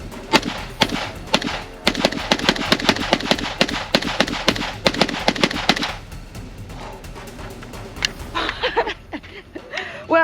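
A ReCreator AK-47 rifle fires a rapid string of loud, sharp shots for about six seconds, then a few scattered, quieter clicks and handling noises follow, with no talking.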